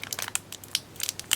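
Crinkly plastic wrapping on a 1994 Magic: The Gathering Legends booster pack being tugged and crushed in hand, a quick series of sharp crackles and crunches, close and alone.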